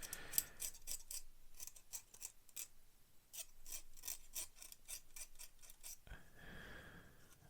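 Hobby blade scraping ejector pin marks off a plastic scale model part of a HobbyBoss M1070 and M1000 heavy equipment transporter kit, a quiet close series of short dry rasping strokes in an irregular rhythm.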